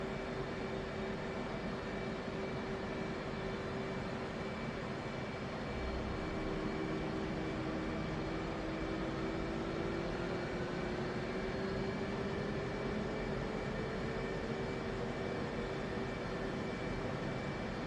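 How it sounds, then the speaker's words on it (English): Left engine of a military jet cranking and spooling up: a steady, loud turbine whine rising slowly in pitch over broad roaring hiss, continuous and close, with no talk. "Now we just wait for this engine to get started up"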